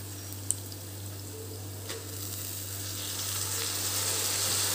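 Potatoes and fresh spinach sizzle steadily in a pan for an Indian aloo palak dish, a soft continuous frying hiss close by that grows slightly louder toward the end, with a faint watery spatter.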